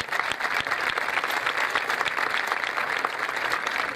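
Steady applause from an audience in a city council chamber, dense overlapping clapping at full strength for the whole stretch, recognizing technology-hub workers during the opening of the ordinary session period.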